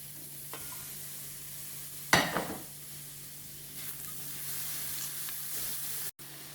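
Onions softening in a hot pan for rava upma, a steady low sizzle with one sharp scrape of stirring near the middle.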